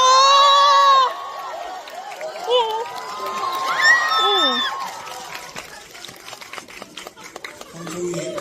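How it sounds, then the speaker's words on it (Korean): A cinema audience cheers and screams for a surprise guest, a loud rising crowd roar with high shrieks and some clapping that fades after several seconds, following a brief electronic tone. "박수로 맞이해 주시면 깜짝 게스트께서 입장하실 것 같습니다"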